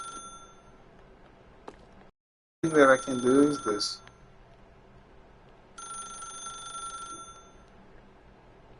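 A telephone rings in the video game The Stanley Parable, sounding as repeated electronic ring bursts with gaps between them. Someone talks briefly in one of the pauses.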